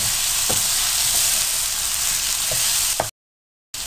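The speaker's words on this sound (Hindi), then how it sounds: "चंद सेकंड के लिए फ्राई करें।" Beef masala boti fries in a pan with a loud, dense, continuous sizzle, a few faint stirring knocks, and a brief drop to silence near the end.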